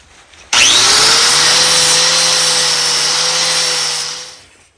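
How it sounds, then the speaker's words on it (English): A power grinder dressing down the end of a Briggs & Stratton 22 hp engine crankshaft: the tool spins up abruptly into a loud, steady whining grind with a high rasp, then tapers off as it slows. "it's a little bit long, so I'm going to grind that a little flatter"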